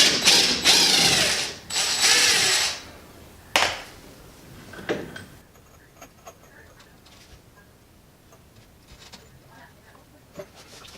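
Ratchet wrench removing the bottom strut bolts on an SVT Cobra independent rear suspension, loud rapid clicking bursts at first, then fainter scattered ticks and clanks.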